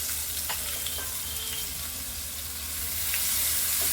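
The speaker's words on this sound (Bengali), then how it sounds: "একই পেনের ভিতরে আমি দিয়ে দিচ্ছি কিছুটা কুচি করা পেঁয়াজ" Chopped onion fries in a pan with a steady, close sizzle and occasional soft pops and stirring scrapes, with no talk over it.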